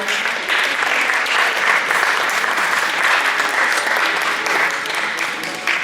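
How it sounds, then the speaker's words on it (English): High school post-prom show audience giving steady applause, a thick sustained roar of many hands clapping, close and loud, with faint crowd voices underneath. "Give them a round of applause, everybody"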